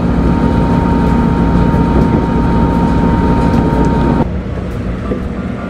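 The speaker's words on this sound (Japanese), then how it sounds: "はい、列車は東路に到着です。" A diesel-hauled train on a Hokkaido wetland line rumbles steadily at close range with a loud, constant drone and a faint high whine, then drops abruptly in level as it settles into the station.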